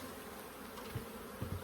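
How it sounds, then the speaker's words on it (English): A mass of honeybees buzzing in an open hive, a steady, soft, even drone with a few slightly louder flickers near the end, no voices. "there's no queen in here, just a lot of bees"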